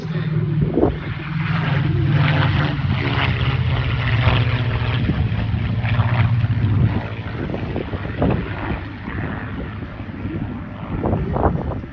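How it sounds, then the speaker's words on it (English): A Supermarine Spitfire Mk 18 with a Rolls-Royce Griffon engine and a P-51D Mustang fly overhead in formation, their loud, droning propeller engines rising and then fading as the pair pass, with wind buffeting the microphone. "Coming in from our left now, the Supermarine Spitfire Mark 18 and the P-51D Mustang."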